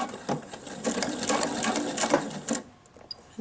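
A home sewing machine runs in reverse, stitching backward over fabric while making a homemade face mask, a close, steady mechanical whirring with rapid needle clatter that stops near the end.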